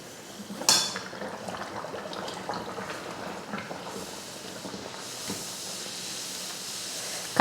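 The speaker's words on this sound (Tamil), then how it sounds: "இப்போ பொரிச்சு எடுத்துடலாம்." Poori made from maida flour fries in hot oil, making a continuous close sizzling hiss that starts with a sudden splash and carries on steadily, with faint utensil clinks under it.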